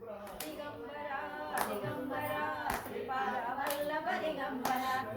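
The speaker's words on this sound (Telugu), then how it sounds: "ఇద్దరు చప్పట్లు ఒకేసారి రావాలి." Rhythmic hand claps from a group keep steady time over a chanted devotional hymn to Sripada Vallabha Digambara, with sharp sets of claps landing about once a second beneath continuous sung voices.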